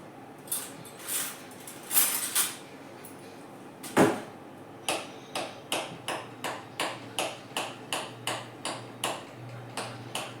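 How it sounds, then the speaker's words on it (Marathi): A spoon stirs butter in a pan as it cooks down into ghee, knocking against the metal in a steady run of light clicks and taps that starts a few seconds in, after some scattered clatter. "फक्त चम्मचने हलवायचं"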